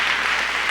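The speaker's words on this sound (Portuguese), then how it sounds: "mais uma salva de palmas para o pastor" A church congregation gives the pastor a round of applause during an evening service, dense steady clapping filling the whole stretch at an even loudness with no voices over it.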